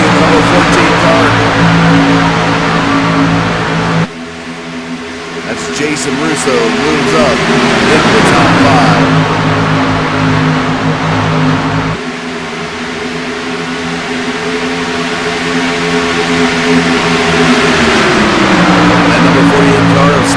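Xfinity-style stock cars racing at Auto Club Speedway, loud sustained engine roar with shifting pitch as cars pass and accelerate down the straightaway, heard under continuous race commentary.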